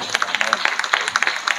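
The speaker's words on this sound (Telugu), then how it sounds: "గట్టిగా చప్పట్లు కొట్టాడు." A church congregation clapping loudly during a prayer service, a quick burst of rapid, uneven hand claps that carries on briefly.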